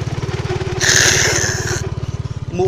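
A motorcycle engine sputters and pops with a rapid, uneven low putter, close and loud, while a brief higher hiss rises over it mid-clip and fades; no one speaks.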